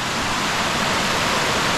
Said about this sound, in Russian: А вон, а там водопад падает уже сверху